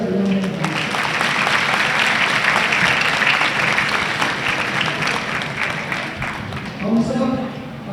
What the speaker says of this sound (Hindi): उसका ताली बजाकर अभिनंदन करें।